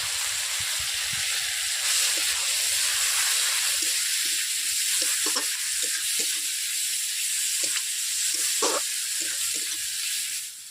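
Chopped onion sizzles in hot oil with panch phoron, a steady close hiss dotted with small crackles and pops, with no one talking.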